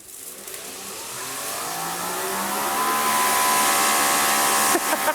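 A new Greenworks pressure washer starts and runs, its motor whine rising steadily in pitch and loudness, with a spraying hiss building over several seconds before a brief cut near the end.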